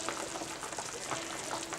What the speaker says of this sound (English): the water is boiling out of the pig feet, so I have to add more water to this.